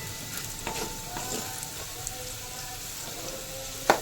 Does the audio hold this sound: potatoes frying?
yes